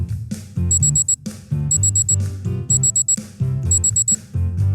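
In a kids' cooking video game, an oven timer alarm rings in repeated bright electronic beeps over a bouncy musical backing that plays throughout.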